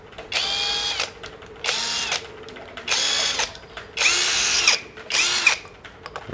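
A cordless Makita TD173-style impact driver runs in five short, loud bursts of roughly a second each, with brief pauses between them and no talking.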